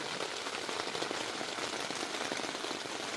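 Heavy rain drumming steadily on a tent while camping on a mountain, a dense continuous hiss with no pauses.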